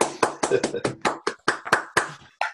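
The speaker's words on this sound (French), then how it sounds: "Si vous voulez mettre vos micros pour applaudir, hein, vous pouvez" Scattered applause from an online seminar audience clapping into their microphones after a talk on solar flares, about a dozen sharp separate claps in an uneven rhythm, close and loud.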